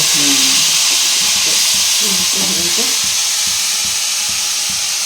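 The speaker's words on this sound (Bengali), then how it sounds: "ভালো করে একটু নাড়তে হবে" Carrot and sugar mixture for carrot laddu being stirred in a frying pan, with a steady loud sizzle and hiss, scraping strokes, and voices talking over it.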